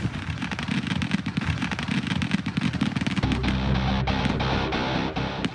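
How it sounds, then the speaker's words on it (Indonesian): Giant hot-air balloon packed with firecrackers blowing up in a village rice field in Ponorogo, East Java: a rapid, loud crackle of bursts and pops, thinning into scattered smaller cracks over a rumbling background. "balon udara berukuran raksasa berisi petasan meledak di tengah sawah milik warga"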